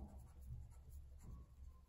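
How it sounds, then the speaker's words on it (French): A pen scratches across paper in short, quiet strokes, close up and alone. "Ensuite, sur le papier, on va écrire"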